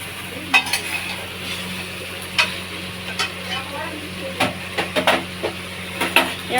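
Sweet pickle is stirred in a pan, a spoon scraping and clinking in scattered strokes over a soft, low sizzle, close up with no talking.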